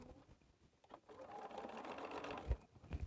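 A sewing machine lock stitches quilt pieces for an outer edge, its faint soft whir running in short stretches with a few light mechanical thumps near the end, quiet and close.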